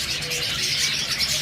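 Pet bird kept for sale, a male calling from its cage with soft repeated chirps and coos over a steady hiss of background noise, faint and nearby, no talking.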